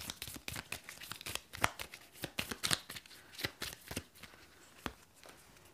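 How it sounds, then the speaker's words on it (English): Playing cards for the Odin's Ravens board game are riffle-shuffled up close, a run of crisp, rapid flutters and riffles repeated several times over a few seconds with no talking. "I need to shuffle them first."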